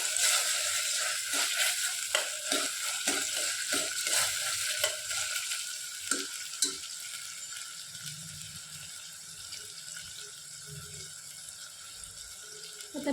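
Finely chopped tomato and slit green chillies frying in a pan for masoori chicken, a steady close sizzle with occasional stirring clicks and scrapes, louder at first and easing off toward the end, no voices.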